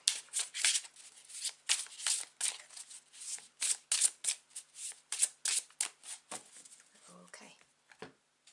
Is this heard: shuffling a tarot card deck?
yes